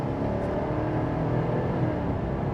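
A 2026 Chevy Silverado 1500 LT full-size pickup with a naturally aspirated V8 accelerates, its engine a steady, full low drone heard from inside the cab, holding an even level without speech.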